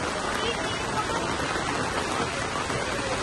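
Monsoon rain pouring in Nainital, a dense continuous hiss of heavy rainfall on surfaces, steady and close throughout.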